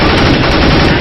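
Continuous loud gunfire from the video game CS:GO during a DreamHack Open Cluj-Napoca 2015 match between EnVyUs and Natus Vincere, a dense unbroken burst of shots filling the whole second with no voice over it.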